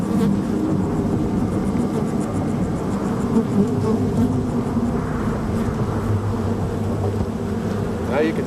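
A dense, continuous buzzing of a disturbed swarm of angry killer bees fills the clip, loud and droning without a break.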